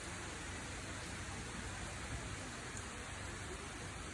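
Steady rain pours down in a dense, continuous hiss, even and unbroken throughout, with no voices.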